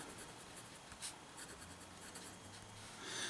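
A Waterman JIF fountain pen with a fine nib scratches softly across paper, mixing cursive and print. The faint, close, continuous nib friction lasts a few seconds with no voice over it.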